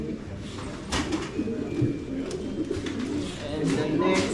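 Racing pigeons in a loft give soft, repeated coos, moderately close, over a low, steady murmur of birds, with someone speaking faintly in the background.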